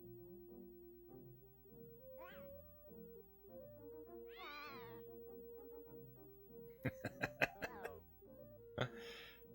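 Cat meowing in the video game Pac-Man 2: The New Adventures, a series of clear, drawn-out synthesized meows over bouncy game music, followed by sharp rhythmic hits and a final burst of noise.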